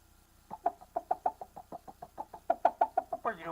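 A person imitates a chick's peeping during a breathing exercise. The voice gives a steady run of about fifteen short, evenly spaced chirps, close and clear, with no other sound.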